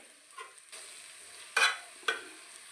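Fried raw plantain pieces are stirred with masala in a hot pan, giving a few soft scraping strokes and light sizzling, quiet and close, with two sharper spoon scrapes near the end.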